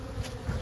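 Honey bees buzz steadily around a hive in a dense, continuous hum, close and moderately loud, with a faint high whine running over the top.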